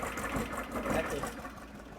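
A car engine fitted with Weber IDF carburetors runs at idle with a busy, even mechanical chatter, steady and close.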